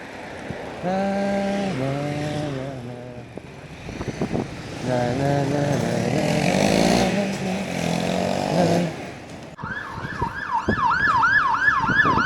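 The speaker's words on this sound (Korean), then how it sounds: "아, 또 앰뷸런스가 오네." Speech and other noise fill most of the stretch on a Chiang Mai street, then a loud wailing ambulance siren cuts in near the end, sweeping up and down rapidly.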